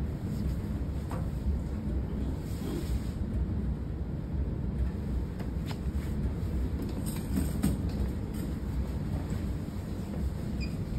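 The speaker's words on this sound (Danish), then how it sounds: "Så skal vi have det i centrifugen." A coin-operated washing machine at a Viborg laundromat spins in its centrifuge cycle, giving a steady, close, low rumbling drone that runs unchanged for the whole stretch with faint higher hiss above.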